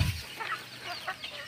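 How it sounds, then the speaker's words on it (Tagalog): Backyard chickens clucking on a small farm, a few short soft calls scattered over a faint outdoor background, fairly close. "meron tayong alaga na backyard chicken"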